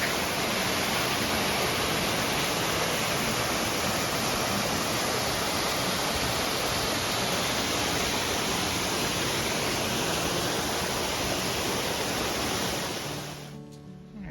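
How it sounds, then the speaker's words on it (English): Bully Brook, a stream along the Appalachian Trail, rushes in a loud, steady broadband wash of flowing water, close and unbroken, fading out only at the very end. "This is known as Bully Brook."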